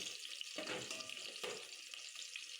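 Onions fry in hot oil for a chicken curry, giving a steady, close sizzle. Two brief scraping surges mark stirring.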